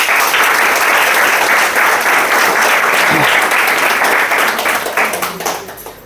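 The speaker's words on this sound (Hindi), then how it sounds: "रोहित सर के लिए जोरदार ताली।" Loud, dense audience applause fills a business training seminar, sustained for about five seconds before thinning out at the end.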